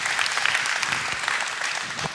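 Audience applause at a public debate between scientists on religion, a brief burst of dense clapping from a large crowd, fairly distant and steady.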